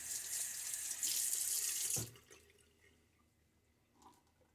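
Tap water runs steadily into a sink while water is added to shaving soap, then cuts off abruptly, leaving faint drips and quiet afterward.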